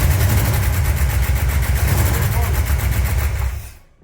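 A stock Pontiac 350 V8 with loose rocker arms and lifters needing adjustment runs loud and close, its rough, rapid pulsing chug steady for several seconds before quickly cutting off.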